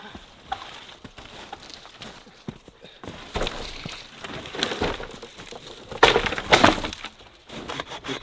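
A snow wall on a mountain breaking apart outdoors, with scattered cracks and crumbling crunches building to a louder collapse near the end, fairly close.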